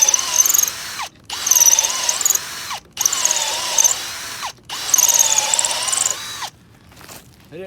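Drill boring through thin steel plate on a cold outdoor timber-frame job, three loud sustained bursts of whining, squealing cutting separated by short pauses, then the noise drops away.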